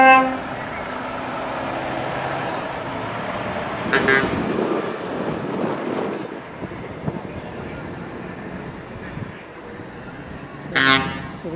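A rare Eurostar 520 truck in a Truckfest Scotland exit parade gives short horn toots amid wind buffeting and street noise, with voices talking nearby.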